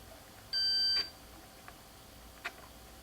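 A single steady electronic beep from a multimeter continuity test on the plugs of a 1968 Sylvania transistor table radio sounds for about half a second, followed by faint clicks in a quiet room.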